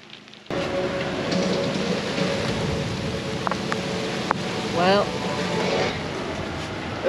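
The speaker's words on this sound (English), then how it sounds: "So it's raining pretty good." Steady rain falls in a continuous broadband hiss outdoors, with faint voices and a few brief knocks and a chirp-like sound partly mixed in.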